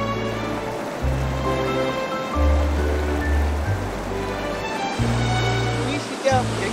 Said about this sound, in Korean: 여기가 제 어릴 적 놀이터 비둘기낭 폭포입니다.